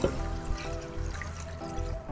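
Fresh water is poured into a stock pot of Vietnamese beef pho holding softened onion and ginger, a steady close splashing and trickling stream that runs through the whole moment without speech.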